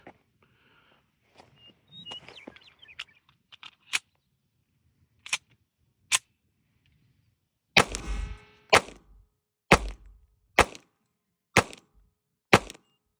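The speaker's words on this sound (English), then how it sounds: "So now I'll go ahead and shoot 2 mags through it" A Springfield SR1911 pistol fired through two magazines, sharp loud single shots spaced about a second apart, a few scattered ones early and then a steady run of reports near the end, with soft handling clicks between and no speech.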